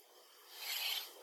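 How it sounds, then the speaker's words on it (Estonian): Hand file rasping across a saw blade to shape a tooth, a steady gritty scrape that swells louder toward the end of a short stroke, close and alone. "siia ühe selle täpi vahele ma üritan siis nüüd kujundada saehamba"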